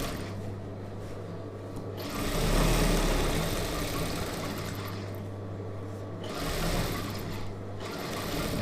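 A sewing machine runs steadily while stitching a star-neck chudidhar, its motor hum pausing briefly around the middle before carrying on close and continuous.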